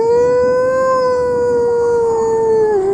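A single wolf gives one long, loud, steady howl that holds its pitch and dips slightly at the end, heard alone and up close.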